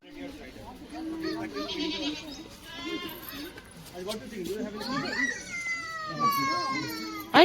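Goats bleat at a pet sanctuary with rising, wavering cries, several overlapping near the end, while children and adults talk and move around nearby.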